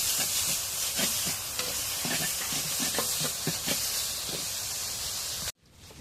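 Leafy greens fry in oil in a pan with a steady broadband hiss and sizzle, with scattered light clinks and stirring scrapes. The sound stops abruptly near the end.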